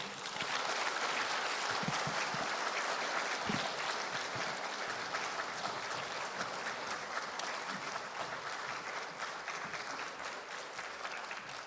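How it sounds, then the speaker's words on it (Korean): Church congregation applauding loudly to welcome a guest speaker at a Korean prayer meeting, dense sustained clapping filling the room for the whole stretch. "우리 집사님 나오실 때 힘차게 박수로 환영하겠습니다"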